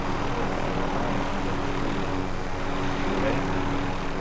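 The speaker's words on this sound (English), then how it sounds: "There's a helicopter. Helicopter here." A helicopter in the video game Call of Duty Modern Warfare gives off a steady, loud rotor and engine drone that fills the whole stretch without letting up.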